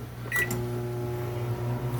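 A microwave oven hums steadily while heating mozzarella, a low, even drone with a brief beep or button click near the start, close and alone.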